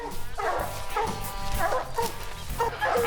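Hunting dogs barking during a North Carolina black bear hunt, a pack baying and yipping repeatedly with some whimpers, several overlapping barks in bursts at mid distance, no talk.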